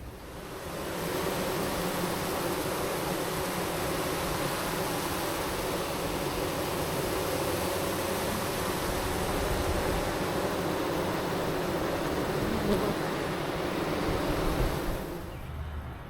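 A hive entrance with its entrance reducer missing, honeybees swarming busily in and out in June, making a dense, steady, loud buzzing drone that runs unbroken and on its own until it cuts off near the end.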